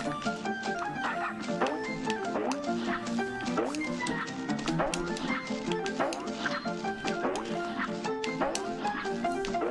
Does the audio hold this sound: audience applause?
no